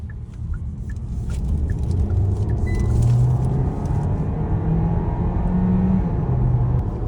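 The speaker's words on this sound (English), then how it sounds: "Under load it does make a bit of noise, but that's only if you proper floor it from a junction." New Hyundai Kona engine working under load on a motorway drive, a steady loud rumbling drone with rising whine from inside the cabin, no talking.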